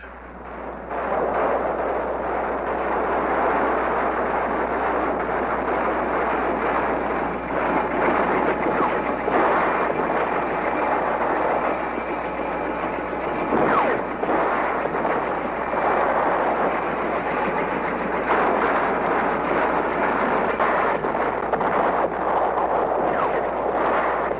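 A continuous heavy rumble of artillery shells bursting during the 1968 bombardment of Khe Sanh, dense overlapping booms that roll on without pause for the whole stretch, loud and enveloping.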